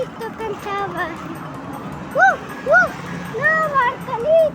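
A voice imitates a dog with a few short, separate barks that come just after some sung words, as part of a children's song about a rooster.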